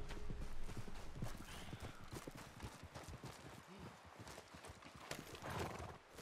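Dixie, a horse in Red Dead Redemption 2, clatters with dense, rapid hoof beats and lets out whinnies, all close and busy over the game's ambient sound.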